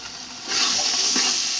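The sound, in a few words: ginger garlic paste frying in a pan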